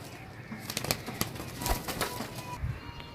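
Pigeon wings flap in a cluster of quick, close bursts among small cage or handling noises, with no voices. The birds are golden and small pigeons sold at a pigeon market in Gujarat Sarai Alam.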